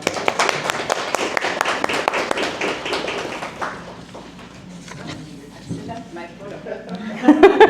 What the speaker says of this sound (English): So let's go ahead and give them a round of applause.